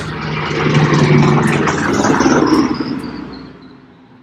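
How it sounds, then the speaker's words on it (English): A large military helicopter passes overhead, a loud low rumble with a rising whine that swells over the first couple of seconds and then fades away as it moves off. "It was a massive military helicopter."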